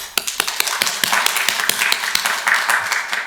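A church congregation claps together at a New Year's 2023 sermon, with dense, steady handclaps building into sustained applause throughout, fairly close and loud.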